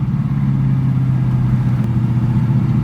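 An LS-engined car with a T56 manual transmission holds a loud, steady mid-pitched engine drone, revving while the driver tries to shift into second gear, close and continuous with no talk.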